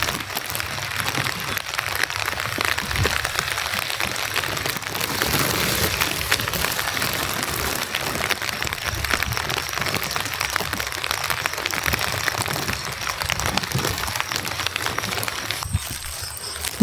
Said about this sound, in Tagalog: Humina na guys yung ulan.